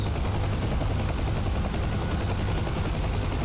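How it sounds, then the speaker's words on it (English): A helicopter in a VR flight simulator game, its constant rotor thrum and turbine whine filling the scene at steady volume with no talking. "And show you the helicopter."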